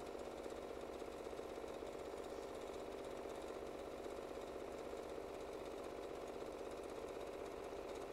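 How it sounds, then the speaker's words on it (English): A sewing machine stitches steadily around a reversible placemat at a short stitch length, a faint, fast, even mechanical whir that runs unbroken throughout with no one talking. "just start sewing all the way around twice"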